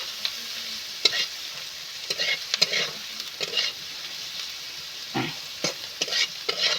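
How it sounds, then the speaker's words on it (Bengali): Salt, turmeric and chili frying in a pan for taro leaf mash, with soft sizzling broken by repeated scraping stirs of a spatula at an irregular rhythm, close and fairly quiet. "স্বাদ মতো লবণ, হলুদ, লঙ্কা, ভালো করে এগুলো আমি ভেজে নেব।"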